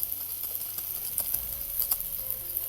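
Sprouted moth beans (matki) being stirred in a pan for a Maharashtrian matki bhaji, giving soft scraping and rustling with faint sizzling, close and quiet, no talk.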